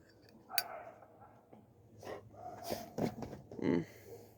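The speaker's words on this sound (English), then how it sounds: "Dogs are getting antsy at something." Restless dogs snort, snuffle and pant in short, irregular bursts, quiet and close by, with brief scuffling sounds between breaths.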